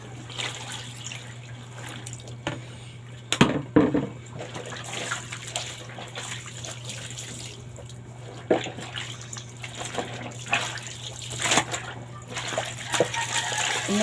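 Tap water runs steadily while laundry is rinsed by hand, with splashes, drips and a few louder sloshes over a constant low hum, fairly close and moderately quiet throughout.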